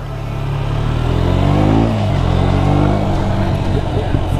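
A KTM Duke 125 motorcycle under way, its engine droning loud and close and rising in pitch as it accelerates, then holding a steady note with continuous wind and road rush.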